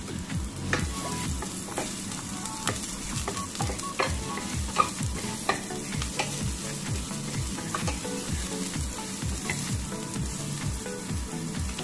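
Onion and garlic sautéing in hot cooking oil for kimchi fried rice, a steady close sizzle broken by repeated stirring scrapes in a quick, uneven rhythm, with no talk.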